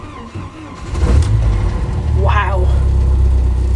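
A 1990 Jeep Wrangler with a five-speed cranks over on a cold start, catches and settles into a steady, loud, close idle, with a brief exclamation from a person.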